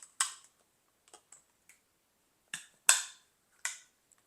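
Several sharp plastic clicks and snaps from a water bottle's push-button lid, spaced irregularly in a quiet room, as the button is pressed and the lid pops open.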